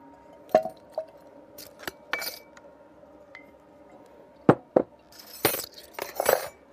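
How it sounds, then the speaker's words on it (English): A bar spoon clinks and rattles in a glass holding WhistlePig rye before any ice is added, sharp scattered taps and chimes close by with short quiet gaps between them. "I'm just gonna give this a little dry stir, kind of get it moving."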